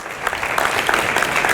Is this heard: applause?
yes